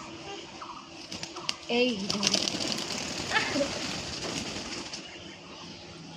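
Pet pigeons coo repeatedly over a steady background hum while someone talks nearby, with soft wing flutters and scattered clicks mixed in.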